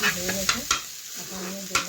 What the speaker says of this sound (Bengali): এই চামচটা দিয়ে নাড়তে নাড়তে দেখুন একটু কুচি কুচি করে নিচ্ছি